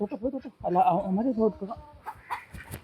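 Chicken clucking in a series of short, close, fairly loud calls, mixed with people talking nearby.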